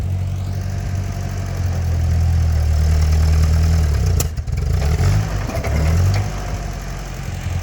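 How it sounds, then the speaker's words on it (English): A vehicle engine rumbles loudly close by, its revs rising under throttle as the clutch is let out to pull a 400 lb concrete mass from a garden bed, with a brief dip and a few knocks partway through. "A little more throttle and just let the clutch right out"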